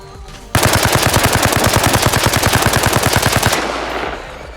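Full-auto rifle fire in Arma Reforger, a sustained rapid burst of evenly spaced loud shots lasting about three seconds, then a fading echo tail.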